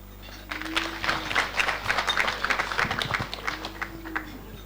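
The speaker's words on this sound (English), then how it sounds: "A round of applause to the Chief Director." Audience at an awards recognition night giving a brief, moderate round of clapping that swells and fades within a few seconds, with a faint voice in the background.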